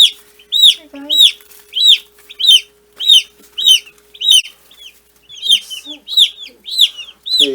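Meat chickens cluck and peep over and over in quick, evenly spaced bursts while they forage. They are close and fairly loud, and a faint steady hum runs underneath.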